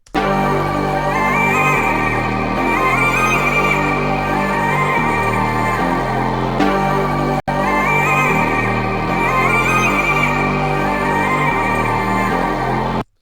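A steady, looping hip-hop instrumental, built for a type beat, with layered melodic parts over deep bass that play loud and continuous with a brief dropout midway.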